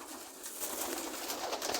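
Pigeons coo softly in a loft during a small show, a faint low murmur under broad hissy background noise, with no talk heard.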